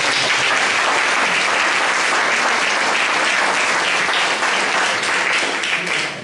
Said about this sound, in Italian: a cui diamo un applauso per l'impegno